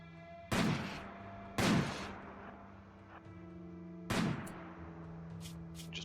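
Three separate loud gunshots in the video game Desert Survival, fired while kiting enemies, each with a short decaying tail and spaced a second or more apart over a steady low in-game hum.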